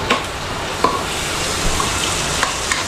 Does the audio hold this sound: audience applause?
no